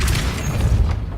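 The Depulso spell cast in Hogwarts Legacy, heard as a loud, deep booming burst that lingers briefly and fades.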